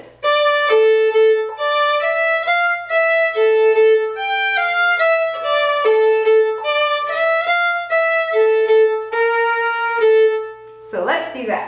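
Bowed fiddle carries the next phrase of a folk tune, clear connected notes played alone and close, with a short noisy burst at the very end.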